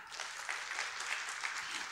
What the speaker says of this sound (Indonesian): Tepuk tangan beri Tuhan.